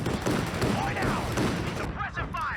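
Machine gun fire in Company of Heroes 2, a loud, continuous rattle of battle noise with sweeping whistles near the end and a commentator speaking over it.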